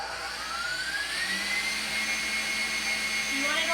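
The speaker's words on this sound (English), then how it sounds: "You're going to beat it till it's really good and foamy." An electric mixer runs at its highest speed, beating egg whites with a pinch of salt until foamy. Its loud, steady motor whine continues unbroken throughout, with a slight rise in pitch.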